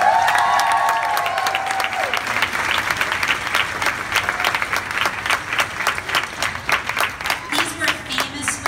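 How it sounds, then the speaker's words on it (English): A seated conference audience breaks into applause that builds and holds for several seconds, dense and loud with scattered cheers. A brief tone fades out at the start. "A round of applause for the women who came forward,"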